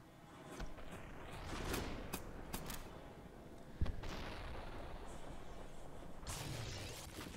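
Double-barreled side-by-side shotgun blasts in the alpha build of Superhot, several sharp broadband shots spaced across the stretch, one strong near crack just before the midpoint, over a steady hum of game ambience.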